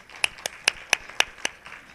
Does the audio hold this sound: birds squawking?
no